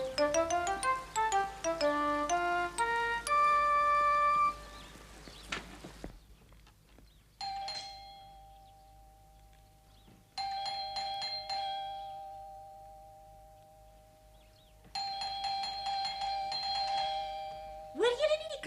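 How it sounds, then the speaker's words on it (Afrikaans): A chiming doorbell plays a descending ding-dong melody, then rings again several times with bright tones that linger and fade between presses, with voices talking in between. "Hoor julle nie die klokkie nie?"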